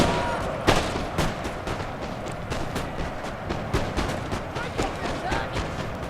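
Musket volleys ring out across a multiplayer battle in Napoleon Total War, with repeated sharp cracks and scattered shots, one especially loud report early on, over a steady din of combat.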